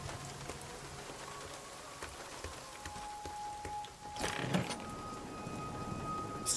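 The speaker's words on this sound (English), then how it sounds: "Amazing, it's raining now." Rain pattering steadily in the video game Nightingale, a soft continuous hiss of drops with a brief louder burst midway and faint interface tones over it.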